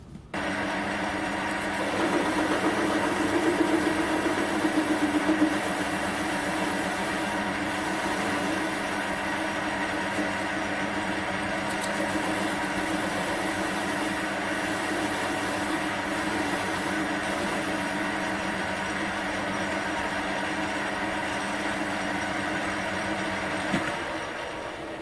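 A metal lathe facing back the surface of a part, a steady continuous machine drone with a faint high whine, running near and unbroken throughout with no talking.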